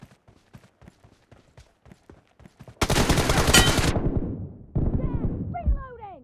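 Gunfire in the Free Fire mobile game, starting with a rapid string of sharp single shots and then a loud sustained burst of automatic fire. A second louder volley follows, close and punchy, with no talking.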